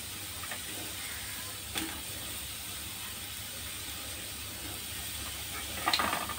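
Chopped onion fries in a pan for a clam masala, giving a steady, moderately quiet sizzle and hiss throughout, with a couple of brief stirring or scraping bumps and no voices.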